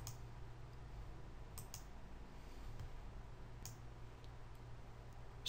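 A few sparse, faint computer mouse clicks sound over a steady low electrical hum while navigating a financial graphing web tool.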